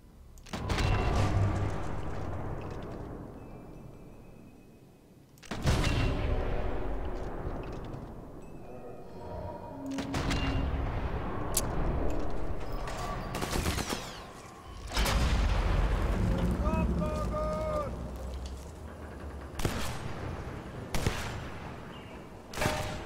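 Heavy bursts of video game gunfire and booming explosions in Sniper Elite 4, arriving in loud sudden volleys every few seconds with decaying rumble between them, no talking.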